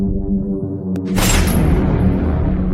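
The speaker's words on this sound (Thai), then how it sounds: "ก็ได้ยินเสียงปืนดังขึ้น" A single sharp gunshot cracks out about a second in, followed by a booming rumble that lingers over a low background hum.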